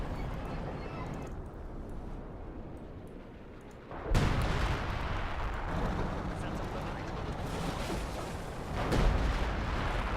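Artillery fires in the Company of Heroes strategy game as heavy booms: one deep blast about midway and another near the end, over a steady rumbling battle din while a commentator talks throughout.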